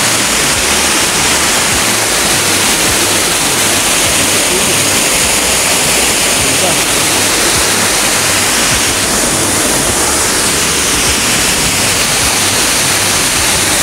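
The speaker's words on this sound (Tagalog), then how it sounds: "Burong Falls, San Jose del Monte. Yan, Bulacan." Burong Falls, a waterfall in San Jose del Monte, Bulacan, roars as a loud, steady, broadband rush of falling water that fills the whole stretch without pause, with no talking over it.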